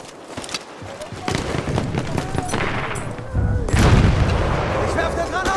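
Grenade blast and gunfire in the Battlefield 1 Conquest battle in the Argonne forest, with heavy booms rising near the end over ongoing shooting and shouted talk.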